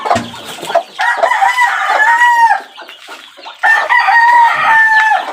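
Hens clucking and crowing close by as chicks are fed, with repeated drawn-out calls in two bursts separated by a short pause.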